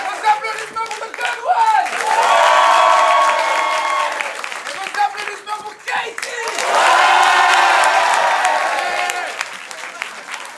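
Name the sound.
audience applause and cheering for improv performers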